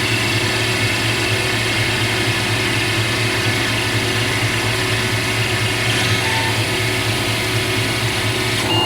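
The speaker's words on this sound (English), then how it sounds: "now we're gonna profile the OD. This is the final pass." Automated lathe turning the outer diameter on a final profiling pass, a steady loud mechanical hum with a constant whine and faint ratcheting texture, continuous and without talk.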